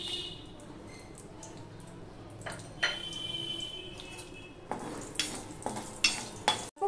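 Whole spices (bay leaf, cardamom, clove and cinnamon) tempering in oil, heard as a faint soft sizzle under scattered stirring clinks and pan knocks, with sharper utensil taps toward the end.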